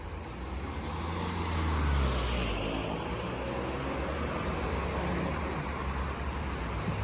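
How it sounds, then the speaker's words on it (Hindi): Busy downtown street traffic with a steady roar of cars, buses and trucks passing close by, a continuous broadband rumble that swells slightly around the second second and holds level throughout, with no talk. "ट्रैफिक रुकेगा नहीं भाई, यहाँ तो ऐसे ही क्रॉस करना पड़ेगा मुझे"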